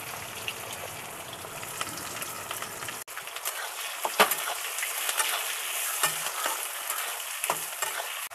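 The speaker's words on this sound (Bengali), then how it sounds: "বাদামি বাদামি কালার ভাজা হোক।" Four chopped onions sizzling in a pan while being stirred, a steady fry hiss broken by scraping spatula strokes and brief clatters; no voices.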